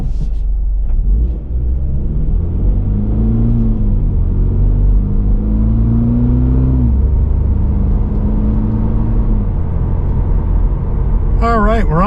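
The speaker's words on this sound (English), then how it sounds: "the first thing I noticed when I started going down the road is that the passenger cabin's pretty loud" A 2024 Toyota GR86 Premium heard from inside the cabin while driving on the road, with a loud, steady low engine and road rumble and some pitch rises as it accelerates. A voice is briefly heard near the end.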